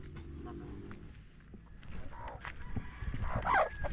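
Chickens clucking and crowing outdoors in the Philippines, several short calls scattered through the clip and a louder one near the end, mixed with rustling background noise and people talking.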